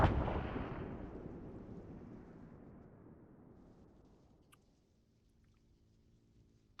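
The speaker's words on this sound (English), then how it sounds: "I'm hearing some explosions" A single heavy explosion booms in the ARMA 3 video game, then its deep rumble rolls away and fades over several seconds, heard far off and fairly faint.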